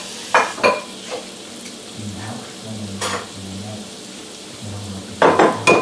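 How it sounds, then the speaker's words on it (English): Shrimp going into a Capelon pan and frying, a soft sizzle running throughout, punctuated by several sharp clinks and scrapes of utensils against the pan at irregular intervals. "we're going to start with our shrimp first and putting it in the pan"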